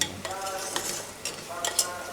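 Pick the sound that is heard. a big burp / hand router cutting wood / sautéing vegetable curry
sautéing vegetable curry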